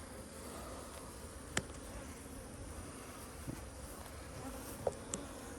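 Honey bees hum around their hives in an apiary, a faint, even buzz with a few brief louder passes close by.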